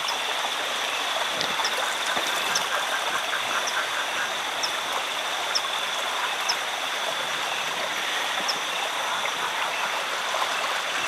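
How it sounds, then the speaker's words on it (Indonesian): A small forest stream flows steadily and continuously, with broadband water rush and gentle trickling throughout, plus faint high insect or frog chirps in the background; no talking. "di sungai kecil ini memang sungai yang lumayan kecil"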